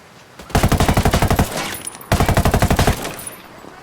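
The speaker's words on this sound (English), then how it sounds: "Opening fire." Two loud bursts of rapid automatic machine gun fire in Ghost Recon Wildlands, each a steady rattling string of about a dozen shots lasting under a second, separated by a short pause.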